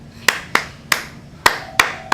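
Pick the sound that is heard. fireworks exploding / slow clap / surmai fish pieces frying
slow clap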